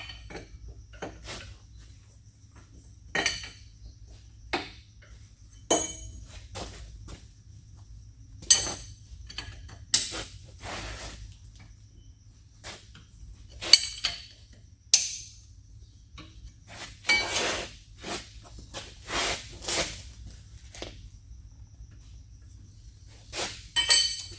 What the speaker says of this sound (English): So we slacken off the table bolts.